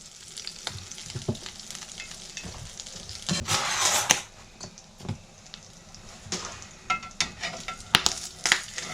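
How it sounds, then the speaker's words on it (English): Hamburger steak frying in a hot pan, a steady crackling sizzle with sharper spatters and pops now and then, close and fairly loud, with no voices. "with frying and all that, grease goes everywhere"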